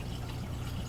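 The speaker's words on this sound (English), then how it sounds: "Open full blast, pumping water back up that's coming from the sump." An aquaponics pump of about 1,850 gallons an hour, valve open full blast, pushes water up from the sump, giving a steady faint trickling, rushing flow with no voices.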